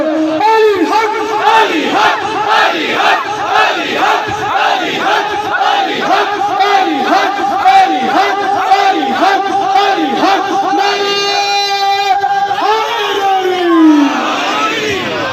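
A large religious gathering at an imambargah shouts a slogan in unison, loud repeated rhythmic voiced calls rising and falling for about fifteen seconds before a final drawn-out cry.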